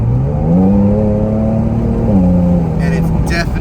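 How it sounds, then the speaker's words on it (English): An Infiniti Q60 fitted with an Ark exhaust and AMS downpipes revs up, its deep droning note climbing, holding, then easing back, loud and close, with a brief voice near the end. "I love the sound of this exhaust"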